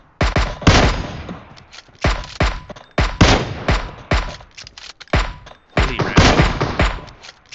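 Gunfire in the mobile game PUBG Mobile rings out as a string of sharp, loud single shots at uneven intervals, each with a short echoing tail, a few spaced closer together.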